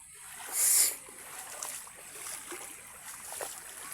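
Floodwater rushing along a swollen, overflowing river, a steady broadband wash of flowing water with one brief louder splash or surge near the start, no talking.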